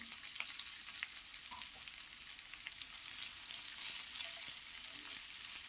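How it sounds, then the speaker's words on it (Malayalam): Chopped onion sautés quietly in a pan for a Kerala tindora stir fry, giving a faint, steady sizzle with light scraping and stirring sounds throughout. "സവാള ചേർത്തിട്ട് നമുക്കൊന്ന് വഴറ്റി കൊടുക്കാം."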